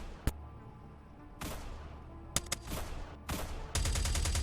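Gunfire in a video game space battle, heard as sharp, loud single shots and short bursts spaced irregularly, ending in a dense, sustained rapid-fire stretch.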